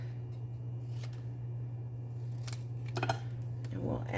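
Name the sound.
scissors trimming a stamped paper sentiment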